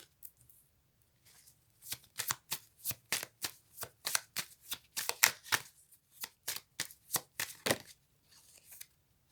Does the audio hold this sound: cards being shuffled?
yes